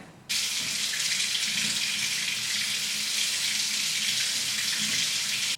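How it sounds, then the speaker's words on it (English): Tap water runs steadily into a kitchen sink as it fills for washing fruit and vegetables, a close, even hiss and splash that starts abruptly and continues unbroken, with no talking. "And add just a little of water."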